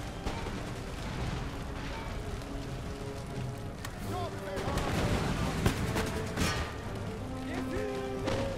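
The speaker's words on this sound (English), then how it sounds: "Got another grenade going." Grenade explosions and gunfire in the Total War: Empire video game, a dense, continuous battle din of scattered blasts and shots with music tones threaded through and a slightly louder burst midway.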